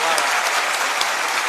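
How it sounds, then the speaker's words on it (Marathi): Loud, dense clapping from a seated audience at a motivational talk for students, a steady wash of many hands close by that holds through the whole short stretch without pause. "राजेश भाऊ पावड्यांसाठी एकदा जोरदार टाळ्या होत्या"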